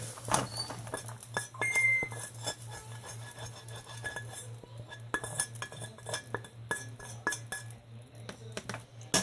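A bowl is picked up and set into a container with light clinking and tapping of dishware, many small close knocks and rattles in quick irregular succession.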